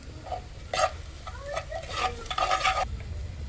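Garlic paste frying for mutton curry cooked over a wood-fired chulha, with a few loud bursts of stirring and sizzling close up against a low crackling background rumble.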